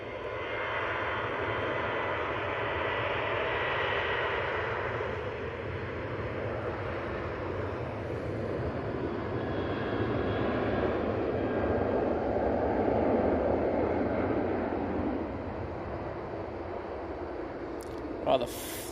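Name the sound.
Boeing 737 jet aircraft departing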